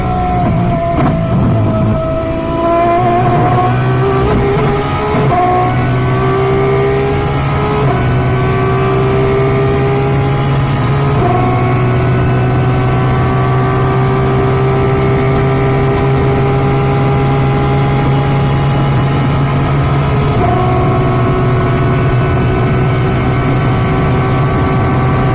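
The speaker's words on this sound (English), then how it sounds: "listening to a little bit of the Valkyrie engine sound now" An Aston Martin Valkyrie LMH race car's V12 engine drones continuously at high revs, its pitch sliding and shifting as it accelerates and changes gear, loud and close throughout.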